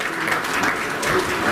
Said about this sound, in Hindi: प्लीज जोरदार तालियों से स्वागत करेंगे इनका।